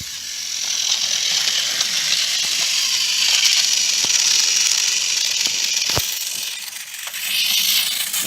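A custom Plarail James toy train with a slow motor runs along its plastic track, giving a steady, loud mechanical whir and clatter that continues for the whole stretch, with a brief sharp click partway through.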